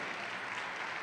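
A church congregation claps together in a dense, even burst of applause, loud and sustained across the short moment without any voices on top.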